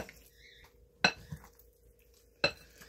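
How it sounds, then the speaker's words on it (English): A few sharp clinks of a utensil against a bowl as beef is mixed, with quiet scraping between them and a steady low hum underneath. "Okay, I'm gonna give this a mix up."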